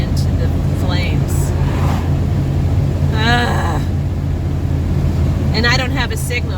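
A car driving through a wildfire evacuation under an orange sky, its engine and road rumble steady and loud inside the cabin while people talk over it.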